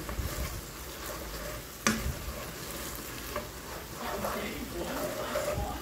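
Apan-apan, a kangkong vegetable stew, cooks in a pan with a steady low sizzle and the occasional stir or clink, one sharp utensil knock near the start.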